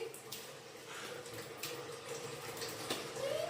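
A tap runs steadily into a sink while a young girl washes dishes at home, giving a continuous close hiss and splash with faint clinks and a brief gurgle of water near the end.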